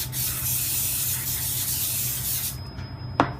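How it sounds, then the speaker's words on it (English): Cooking spray hisses from an aerosol can into a baking tin for baklava, a steady close spray lasting a couple of seconds before stopping, followed by a faint tap. "we'll just go ahead and put some cooking spray on as well,"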